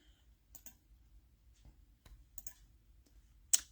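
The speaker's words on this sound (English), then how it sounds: "So I'm going to click on the website." Computer mouse clicks while browsing a dance company's website, several faint, sharp clicks scattered irregularly, some in quick pairs, with one louder click near the end, over quiet room background.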